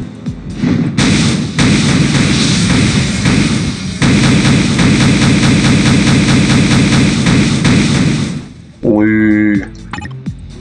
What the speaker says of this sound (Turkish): Sonra güzel bombalar yağdı.